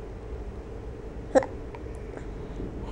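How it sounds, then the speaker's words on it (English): A baby hiccups once, short and sharp, close by. A fainter second hiccup may follow in a quiet room with low background hum. "You got the hiccups."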